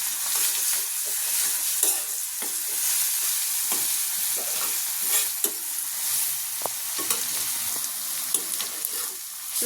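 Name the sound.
frying and stirring crushed garlic and onion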